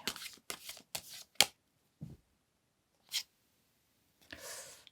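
Tarot cards being shuffled and drawn at a reading table, a rapid run of close riffling bursts followed by scattered single card slaps and a final longer shuffle, with no talking.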